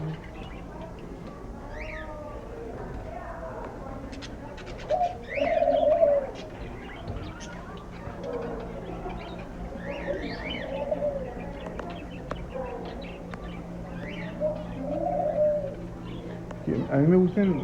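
Pigeons or doves coo in soft, repeated calls from caged birds nearby, with occasional chirps and people talking in the background.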